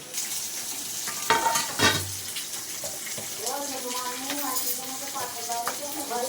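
Meat sizzles in a pan at a family party, a steady hiss with occasional stirring clatter, while voices talk over it throughout.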